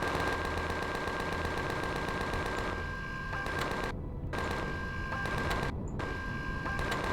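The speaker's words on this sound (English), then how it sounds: "That power station's got an ion cannon on it." A power station's ion cannon firing in the video game Empyrion Galactic Survival: a loud, dense stream of rapid shots, broken by two brief pauses, with no talking.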